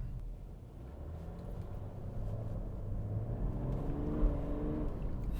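A BMW E90 M3 with newly fitted control arms accelerates, its engine rumble heard from inside the car and building into a deeper, louder growl over a few seconds.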